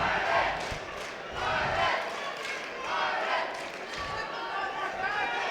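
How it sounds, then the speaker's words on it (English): Spectators at an Irish kickboxing open tournament cheer and shout in swelling waves, loud crowd noise rising and falling over several seconds with a few sharp thuds and chatter mixed in. "The crowd are starting to pick up."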